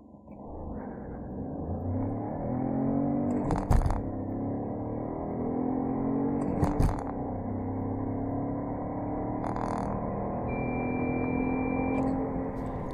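A Peugeot 308 with the 1.2 PureTech 130 petrol engine and manual gearbox accelerates hard from standstill to 100 km/h, its engine note rising and dropping with two gear changes, heard steadily from inside the cabin.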